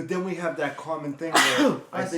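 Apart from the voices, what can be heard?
sneeze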